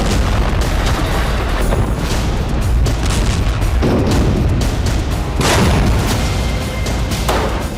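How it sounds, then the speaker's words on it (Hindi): IED blasts set off by Hamas fighters against an Israeli tank in Gaza's narrow streets, loud rumbling booms and crackling bursts over a constant roaring din, with no speech. "हमास के लड़ाके टैंक के नजदीक पहुंचकर आईडी हमले कर रहे हैं।"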